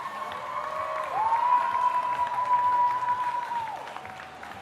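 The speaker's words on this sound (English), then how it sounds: "Can I get one more round of applause for what just happened here today?" Crowd applause at a youth national rock climbing speed final, a steady wash of clapping with a sustained tone, likely an announcer's mic or feedback, running through most of the stretch.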